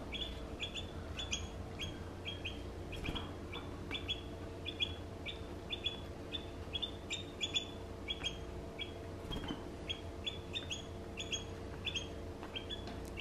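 A young bulbul chirps repeatedly from its cage, short high tweets coming in steady quick runs over a constant low background hum, close and fairly clear.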